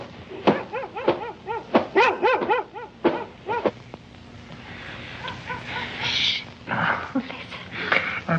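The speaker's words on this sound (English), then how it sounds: "I'm telling you, it's only the dog." A dog in a 1977 horror film gives a quick series of sharp, yelping barks and whines up close, then the sound trails off into quieter rustling with a few later bursts.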